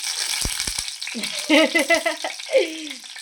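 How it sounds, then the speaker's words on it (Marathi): Garlic and kokum drop into hot oil in a pan and crackle and sizzle close by. A few sharp knocks come first, then bursts of frying with a voice talking over them. "तेलावर आपण लसूण टाकून घ्यायची कोकम पण पडला"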